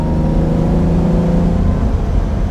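The V12 engine of a 1967 Lamborghini 400 GT 2+2 revs smoothly and loudly under way, a dense, continuous engine drone with a slight rise in pitch, heard close from inside the car.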